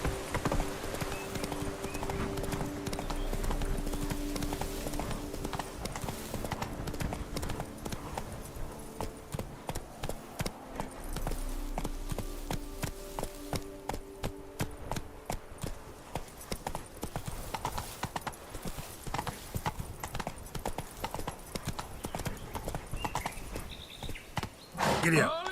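Hoofbeats from Roach, the horse in The Witcher 3, clatter in a steady clip-clop rhythm for a long stretch, close and fairly loud, with scattered game sounds and occasional snorts mixed in.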